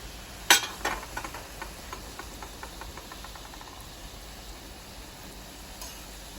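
Buñuelos de viento dough frying in hot oil, a soft, quiet sizzle with a few sharp crackles early on that settle into a faint, steady hiss.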